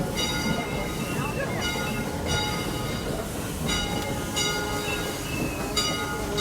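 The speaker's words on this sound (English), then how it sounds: "Love to see the train." A train passing at Roaring Camp, with continuous rumble, rhythmic wheel clatter and recurring high metallic squeals, with a crowd murmuring in the background.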